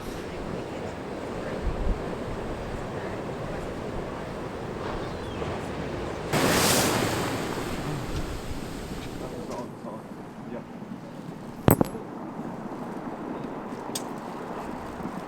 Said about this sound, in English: We are protecting the camera against the seemingly imminent threat of the ocean attacking us